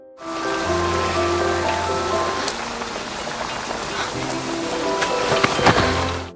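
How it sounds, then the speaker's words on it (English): Steady, dense rain pours down continuously, a broad hiss with scattered drops hitting a surface nearby, loud throughout with a few sharper splashes. "But the rain didn't let up."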